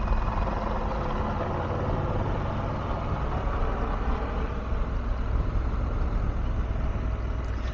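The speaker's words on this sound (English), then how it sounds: "Oh, helicopter." A steady, broadband helicopter engine drone holds throughout as it passes overhead at moderate distance over Swiss mountain passes, with constant rumble and no voices.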